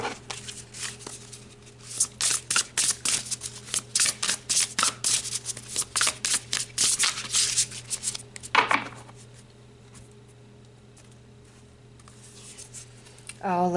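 Tarot cards shuffled by hand in a rapid run of crisp riffling bursts for about eight seconds, ending in one sharp snap and then near silence with a low steady hum.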